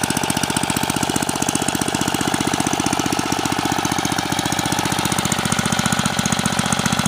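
A Troy-Bilt rototiller engine idles with a steady, rapid, even chugging pulse, loud and close, running unbroken for the whole stretch with no talking.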